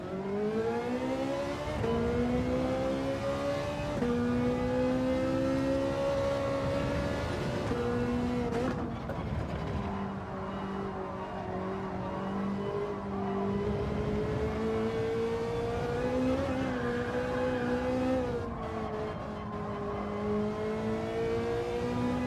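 A Ferrari race car in a racing video game roars steadily for over twenty seconds, its engine pitch climbing and dropping with each gear change and throttle lift, loud and close with no talking.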